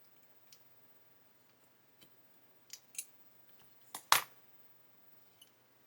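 A handful of sharp snips and clicks, scattered and close, as a blade cuts open a slot in a small plastic part of an Avro Lancaster B.III model, with one louder crisp cut near the end.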